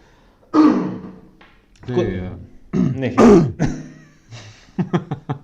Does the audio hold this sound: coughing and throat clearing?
yes